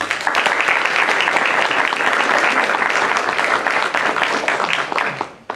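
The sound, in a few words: audience applause welcoming Dr. Hatem Bazian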